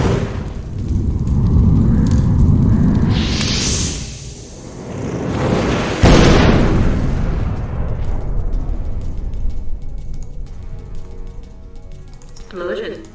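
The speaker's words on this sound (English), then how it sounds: "Explosion." A fireball explosion sound effect fires off during a tabletop Dungeons and Dragons game: a rising whoosh, then a loud, sustained booming blast with a sharp crack at its peak, while several people talk over it.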